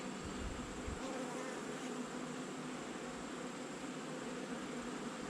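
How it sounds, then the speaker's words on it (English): Steady, faint droning buzz of wasps swarming around a large wasp nest tucked behind a beehive nuc box, continuous and even with a low hum underneath. "Oh, I got a big wasp nest right here behind this nuke."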